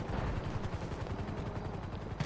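Rapid automatic gunfire in GTA V aimed at a police helicopter during a shootout at a house, a dense continuous rattle of shots with a low rumble underneath, loud and steady throughout with no talk.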